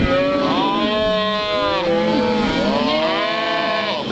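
Cattle bellow and moo loudly at a ranch branding, several long drawn-out calls overlapping up close in a continuous chorus.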